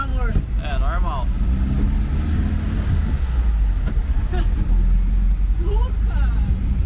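Engine of a 1970 Volkswagen Beetle (Fusca), revived after twenty years, runs steadily while driving, a low continuous rumble with wind buffeting, and people talk over it throughout.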